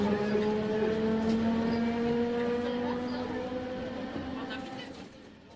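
A tram running in a Bengali audio drama: a steady rolling rumble with droning tonal hum from the wheels and motor, fading gradually toward the end, moderately loud and uninterrupted.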